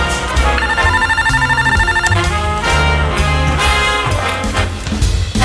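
A telephone rings with a bright, repeating electronic melody that plays loudly and continuously, layered over background music with no talking.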